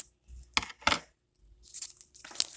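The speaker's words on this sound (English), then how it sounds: "take your tape and peel it like so" Adhesive tape is peeled and torn nearby in a few short, crisp ripping bursts separated by brief pauses, heard on its own without talk.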